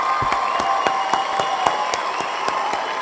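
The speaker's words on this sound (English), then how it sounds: "Let's do a big round of applause for all of our members out there" An audience claps in a fast, even rhythm, each clap distinct, over a sustained tone in the background.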